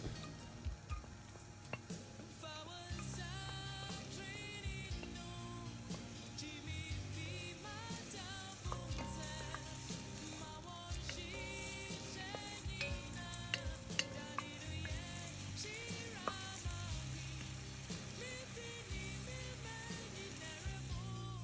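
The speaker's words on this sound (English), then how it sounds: "I'm going to add in the sliced onions and saute for about 1 or 2 minutes" Sliced onions sauteing in a tablespoon of cooking oil in a saucepan, a steady sizzle and fry with occasional stirring clinks and scrapes over a dense, continuous background.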